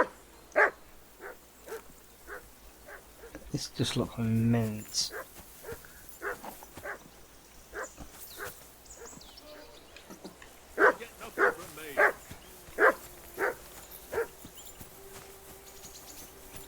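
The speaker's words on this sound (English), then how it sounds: "I assume you can hear that damn dog of yours barking." A dog in Kingdom Come: Deliverance II barks repeatedly, sharp single barks spaced out over the clip with a denser flurry near the middle, mixed in with game voices and someone speaking.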